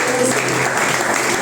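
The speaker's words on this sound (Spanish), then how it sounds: "Denle un aplauso al Señor." Steady applause from a church congregation clapping for the Lord, a loud, even wash of many hands throughout with a faint voice underneath.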